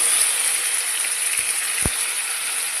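Potatoes fry in hot oil with a paste of ground ginger, cumin, chili and tomato, giving a steady, even sizzling hiss and a couple of faint soft taps.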